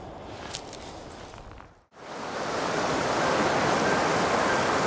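The Knife River flows steadily in a broad, constant rush of water, briefly cut off before resuming louder and closer as a dense, even wash of sound.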